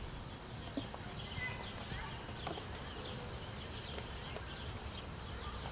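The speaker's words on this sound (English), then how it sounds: "I got all these bees on there." Honeybees swarm over two frames of honey, giving a dense, continuous buzzing hum close up, with scattered sharper wingbeat flicks and no talk.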